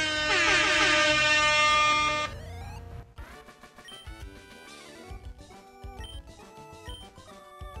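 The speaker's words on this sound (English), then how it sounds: "Nick, put in the air horn sound effect." A loud, blaring air horn blast holds steady for about two seconds, then cuts off into busy electronic music.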